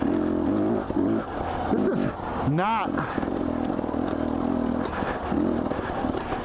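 A Husky TE250i trail motorcycle lugs up a hill at high altitude, its engine a steady, close, low drone that briefly dips and swells, with a rider talking over it.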